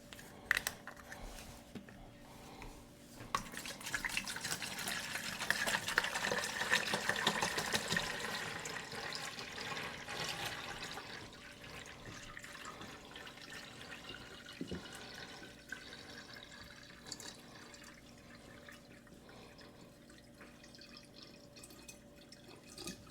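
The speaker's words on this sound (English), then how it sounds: "the first instruction is to use purified water and fill this up to the 116 ounce mark" Purified water pours and trickles into the iGulu F1 smart beer brewer, a soft steady stream swelling then tapering off amid faint handling clicks.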